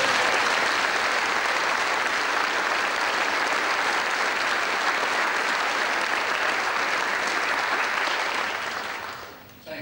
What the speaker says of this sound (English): What about a round of applause?